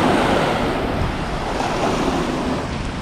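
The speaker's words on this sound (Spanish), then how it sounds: "no es el día para nadar porque está el mar súper revuelto" Rough, churning sea surf driven by strong wind at a beach, a dense continuous roar of breaking waves with gusty wind buffeting the microphone, loud and steady throughout with no voices.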